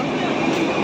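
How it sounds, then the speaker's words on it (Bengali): A local train pulls out of a station with a loud, steady, broad rumble that fills the short moment close by. "আমাদের ওইদিকে ট্রেন চলে গেল"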